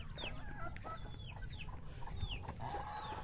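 Chickens cluck repeatedly around a rural backyard, several short calls overlapping steadily over a low background hum, fairly close and moderately loud.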